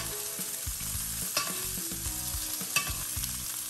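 Deli-style roast beef frying in butter and garlic in a pan, a steady close sizzle broken by repeated low thuds and scrapes of the utensil moving the meat.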